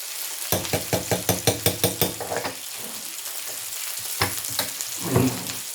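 Garlic fries in a pan while a spoon stirs it in quick, regular scraping strokes, then the stirring slows to a few separate scrapes over a soft background sizzle.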